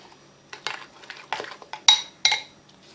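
A utensil stirs a cheese mass with sugar in a bowl, making a run of scraping clinks and taps in irregular bursts that grow sharper toward the end, close and fairly loud, with no voices.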